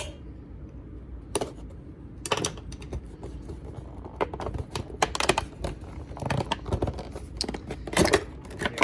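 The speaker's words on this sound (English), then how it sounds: "There's tape still in place at the top flap, so I'm going to cut that." Tape on the sealed top flap of a Cyborg and Harley Quinn Injustice 2 figure pack box being cut, a run of sharp close clicks and snips that thicken into quick scratchy slicing and tearing.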